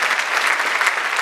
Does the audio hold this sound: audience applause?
yes